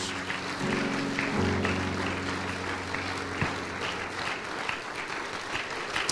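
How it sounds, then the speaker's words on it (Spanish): Church congregation applauding in sustained, steady clapping throughout, with a low tonal hum beneath and a faint voice near the start. "Dale un aplauso de alabanza a nuestro Jesús"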